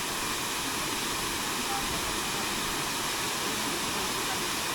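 Flowing water rushes steadily at a tourist farm in Mindoro, a broad continuous hiss, close and even, with a voice talking faintly beneath it.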